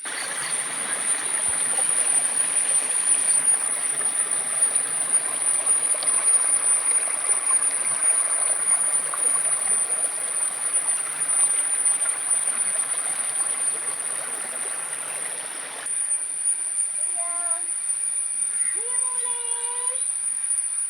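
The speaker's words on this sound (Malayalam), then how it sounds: "തോട്ടിൽ വെള്ളമെല്ലാം കാണിച്ചു വെച്ചിട്ട്" Steady rushing of stream water flowing continuously, then dropping away near the end as faint chirps take over.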